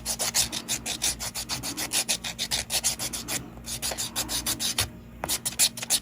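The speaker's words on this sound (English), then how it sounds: "This is going to require some filing." A nail file rasps rhythmically back and forth across builder gel nails, close and steady, with quick repeated strokes and brief pauses, no talking.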